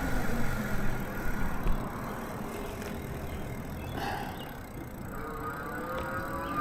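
A Velotric Discover 2 commuter e-bike climbing a medium hill on throttle alone, its motor whir buried under steady, loud wind rumble and road noise throughout.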